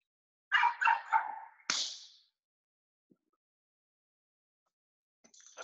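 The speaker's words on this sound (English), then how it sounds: "who has the dogs barking in the back" Dogs bark in the background of an online meeting call: a quick cluster of three barks, then a sharper single yelp, a long silence and a faint final noise.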